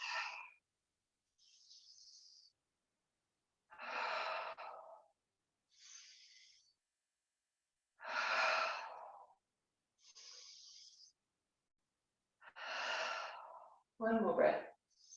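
Slow, deep breathing during a guided yoga and meditation session: several long, close inhales and exhales, each separated by a few seconds of silence, with a soft breathy texture.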